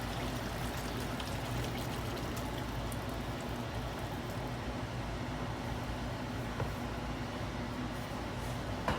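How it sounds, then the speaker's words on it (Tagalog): Hot water pours steadily into a cooking pot of beef kaldereta, a continuous splashing trickle lasting several seconds at a fairly even level, with no talking. "Maglalagay na tayo ng mainit na tubig."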